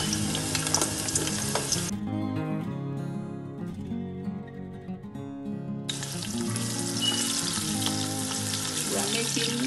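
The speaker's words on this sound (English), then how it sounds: "We are going to prepare our stew for the rice." Tomato stew for cabbage jollof rice fries in a pan, with a loud, dense sizzle that drops to a quieter simmer for a few seconds before the hiss surges back.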